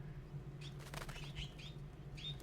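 A trapped bird in the video game Life is Strange flaps its wings in a quick fluttering burst and flies off, with faint chirps over a quiet low hum.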